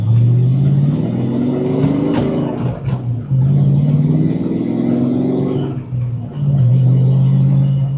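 A 1993 Ford Mustang Cobra with a 5-liter V8, five-speed manual and Flowmaster exhaust revs hard and close, a deep burbling growl rising and dipping through three or four throttle blips, loud and alone.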